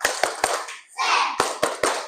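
Students in a classroom do a rhythmic spirit clap: sharp, evenly spaced group claps in two bursts of three, with a short voiced chant between them. Close and fairly loud.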